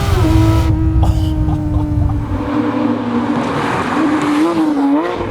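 A loud, close engine of a 2016 Porsche 911 GT3 RS roars and climbs in pitch as it revs hard in second gear, with a droning whine rising and wavering through the run.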